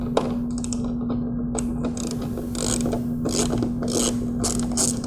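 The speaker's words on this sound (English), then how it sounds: "proceed to remove the rest of the screws holding the main bezel in place with your socket head" Socket wrench ratcheting loudly and steadily as it backs out the main headlight bezel screws on a 2015-or-later Dodge Challenger, with short bursts of clicking and a constant low hum underneath.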